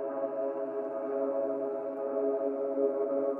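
A synth pad preset with automated Life and Cavern effects holds a steady, sustained tone for the whole stretch, moderately loud and alone, with a slight sense of slow movement.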